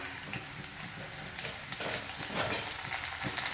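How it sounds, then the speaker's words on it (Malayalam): Ginger and garlic sautéing in oil with curry leaves for a dried mango pickle, a steady close sizzle and crackle with occasional stirring scrapes in the pan, no voices over it. "ഇനി ഇഞ്ചി വെളുത്തുള്ളിയും കൂടി നമുക്ക് പച്ചമണം നന്നായിട്ട് മാറുന്ന വരെ നന്നായിട്ടൊന്ന് വഴറ്റിയെടുക്കാം"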